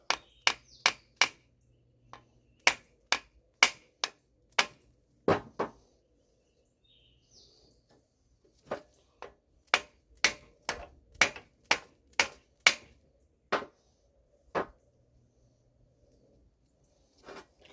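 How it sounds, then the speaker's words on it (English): A brass hammer taps the ring gear of a Chevy differential in sharp metallic strikes, close and crisp, coming in quick bursts of three or four with short pauses between groups. "I'm getting the brass hammer because I got to move that ring just a bit."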